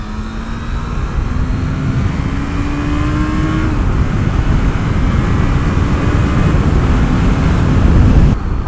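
A 1996 Yamaha YZF600R Thundercat motorcycle rides at speed, its engine droning loud and steady with a rising pitch as it pulls through a gear, wind noise heavy throughout.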